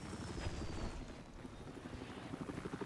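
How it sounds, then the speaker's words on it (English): A helicopter in Battlefield 4 during an 8v8 Conquest match: steady rotor thumping, fairly faint and distant, with wind-like rushing and a thin descending whine above it. "Waiting for the chopper to get back up."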